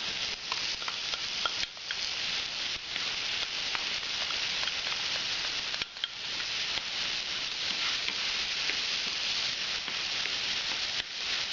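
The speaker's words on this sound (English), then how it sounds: "We're going to brown the garlic and the onions" Garlic and onions fry in oil in a pan, giving a steady, dense sizzle that runs unbroken and close throughout, with occasional faint stirring scrapes and no talking.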